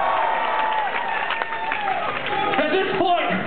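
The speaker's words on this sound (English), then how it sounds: "give them a big round of applause" At a show at the Showbox, a concert crowd claps and cheers briefly under lingering stage sound and a voice from the stage.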